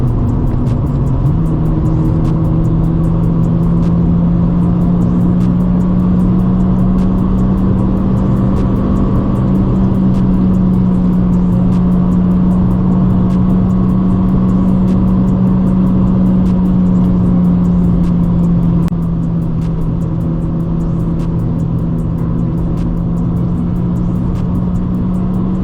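A Honda Civic on a night drive with a stock exhaust, its engine drone steady and close from inside the cabin, pitch rising slightly as it accelerates, then easing off; no voices.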